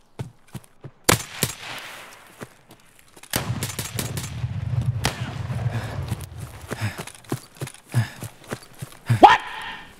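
Sharp, close gunshots in the tactical shooter Escape from Tarkov, scattered single blasts with a burst of rapid fire in the middle over background rumble, quiet gaps between shots.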